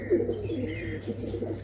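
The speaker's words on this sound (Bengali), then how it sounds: "এখানে যে পায়রাগুলো দেখাচ্ছি আপনাদেরকে সব টুর্নামেন্ট কোয়ালিটিরই পায়রা" Tournament-quality high-flying Madrasi pigeons coo softly and continuously at close range, with low throaty calls rolling over a steady low hum.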